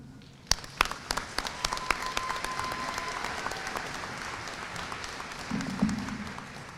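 Applause from an audience at a spring 2024 college commencement ceremony, dense steady clapping filling the room for several seconds with a few sharper claps near the start.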